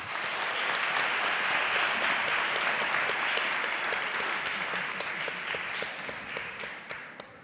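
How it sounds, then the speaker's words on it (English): Applause for a professor on an academic dialogue panel fills the room, steady and full for several seconds, then thins and fades toward the end. "A round of applause for Prof."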